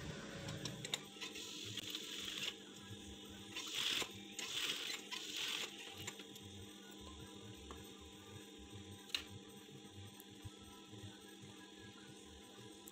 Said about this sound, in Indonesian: Kemudian kita jahit bagian atasnya ini ya, seperti ini.